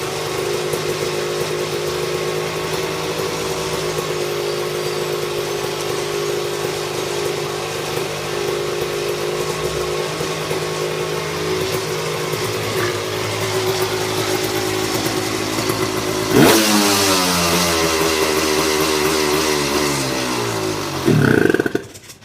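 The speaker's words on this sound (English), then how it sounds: "as you can see, she runs. It'll hold idle, but I'm sure all that will need to be adjusted." A Tecate KXT250 engine runs steadily at a loud, rough idle for a long stretch, then revs up sharply near the end before dropping back, close by with no talking.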